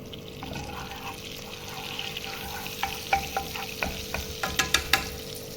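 Chicken roulé frying in a pan of butter and oil gives a steady, close sizzle, with a run of sharp scraping and stirring clicks in the final seconds.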